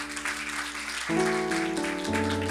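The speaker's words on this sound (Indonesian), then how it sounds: "Tepuk tangan dulu yang luar" Applause from a congregation at a church worship service, a steady wash of clapping under sustained keyboard or organ chords that shift partway through.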